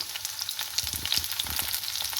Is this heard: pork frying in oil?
yes